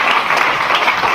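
Brief burst of audience applause from a crowd at a comedy show, dense and steady for about a second.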